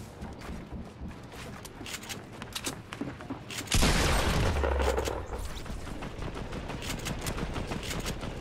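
Gunfire from a nearby fight in the Fortnite battle royale game, with a dense run of sharp shots and mechanical clatter, a loud burst partway through, then continued crackling.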